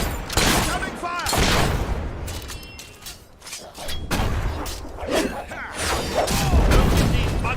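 Bursts of gunfire and booming shots in the video game Fable 3, loud and repeated in clustered volleys across the clip with a voice talking over the battle.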